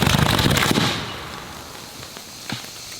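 A zinc puck explodes in the switch of a bank of 400 wired car batteries: a loud burst of crackling bangs that fades into a hissing, sputtering tail with a sharp late pop.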